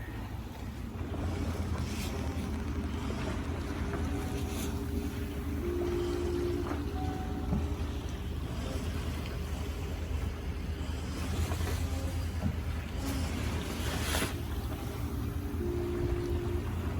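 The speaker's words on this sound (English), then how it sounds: "As predicted, the wind died, so we're under engine here." A sailboat motoring under engine power near Watch Hill after the wind died, a constant low engine drone with wind and water wash around it, steady throughout and without talk.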